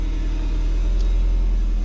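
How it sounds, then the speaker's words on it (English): A car rumbles steadily close by in low gear as it is driven a short way, its engine droning loud and even throughout the brief moment. "I already moved the car over here"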